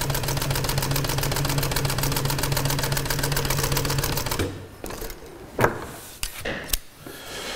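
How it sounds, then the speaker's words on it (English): A sewing machine stitching watercraft cover fabric runs in a fast, steady rhythmic clatter for about four seconds, then stops, followed by a few scattered clicks and handling knocks. "stitching on here, so to speak, on a sewing machine"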